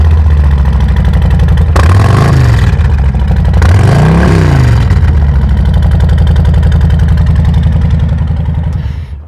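A loud Harley-Davidson motorcycle engine rumbles at idle at a dealership in Joplin, with two sharp revs swelling and falling back to a deep, throbbing idle.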